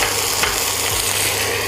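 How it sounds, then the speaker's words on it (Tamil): Tomatoes sauté for an egg curry, giving a loud, steady sizzle across the pan with a few soft stirring scrapes and no voices. "தக்காளி நல்லா வதங்கட்டும்."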